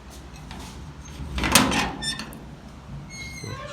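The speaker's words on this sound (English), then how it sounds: "This is the door." A squeaky door in a small room in the Himalayas swings open with a creaking squeal and a soft thump, followed by fainter squeaks and light handling noises.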